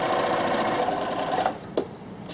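A sewing machine runs in a quick steady stitch while securing a small fabric pocket on a pouch, then slows and stops with a couple of short mechanical clicks.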